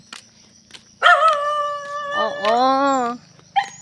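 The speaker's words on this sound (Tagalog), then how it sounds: "Yung aso ng pamangkin ko." A nearby dog gives a drawn-out, wavering whining howl followed by a short yelp, loud and close against a quiet outdoor background.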